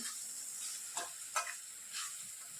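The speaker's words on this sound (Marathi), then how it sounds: "हे वाटण आपण कढईत टाकताना थोडंसं हळू टाकायचं" Soft, steady sizzling hiss as ground spice paste fries in a hot wok, with a few brief louder spits and crackles as it is stirred.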